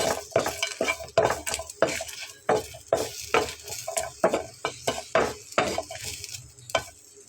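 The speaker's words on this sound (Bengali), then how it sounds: "তো বন্ধুরা একদম তেল ছাড়াই কিন্তু এটাকে ড্রাই রোস্ট করে নিতে হবে" Flaxseeds dry roasted in a pan with no oil, stirred by a spatula: rapid, irregular scraping and rattling strokes scrape across the pan one after another, close and fairly loud, with a light crackle between them.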